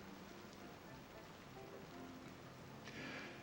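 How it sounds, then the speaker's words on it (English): Rain begins falling outdoors at night, a soft, steady hiss of drops that stays faint and even throughout the brief stretch. "Starting to rain."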